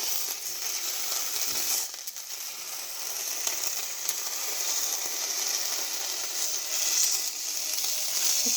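Meat browns in a hot pan, giving a steady, fairly quiet hiss and crackle of frying fat that continues evenly throughout with no talking.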